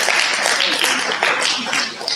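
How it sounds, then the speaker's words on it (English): A room full of people breaks into dense, sustained applause, loud and steady throughout at a business marketing talk, with a few voices mixed in. "Give them a big round of applause."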